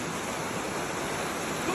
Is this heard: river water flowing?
yes